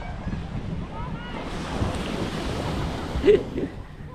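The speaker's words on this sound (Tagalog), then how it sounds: "Dito na sa tabing dagat, ano." Sea waves wash along a seaside shore in a steady, moderate rush, mixed with wind noise on the microphone and a brief louder swell near the end.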